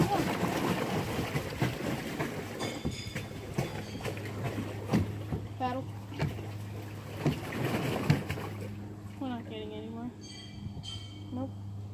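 A paddle boat is steered and paddled on open water, with wind buffeting the microphone and splashy strokes. Several people talk and shout excitedly over the sound throughout.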